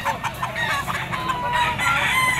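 A yellow-legged Kelso bloodline stag rooster crows loudly and close, its call ringing out over the noise of a busy poultry market.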